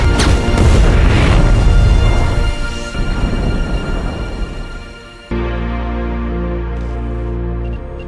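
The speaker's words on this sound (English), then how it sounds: "Moments later, there's a massive explosion." A military robot self-destructs in a massive explosion, a loud, booming roar that rolls and slowly fades over several seconds before giving way to a steady low droning hum.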